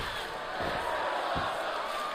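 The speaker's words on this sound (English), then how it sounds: "Listen to that crowd chanting." In the WWE 2K23 wrestling video game, an arena crowd chants and roars as a steady, dense wash of voices, with a couple of dull thuds from the ring beneath.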